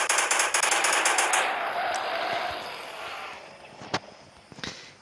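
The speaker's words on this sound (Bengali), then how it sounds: "এক এক করে মেশিন গান দিয়ে সবগুলোর অবস্থায় খারাপ করে দিতে হবে।" Rapid machine-gun fire at dinosaurs in the mobile game Indian Bikes Driving 3D, a dense rattling burst at the start that fades into a hissing decay, followed by a couple of sharp isolated impacts.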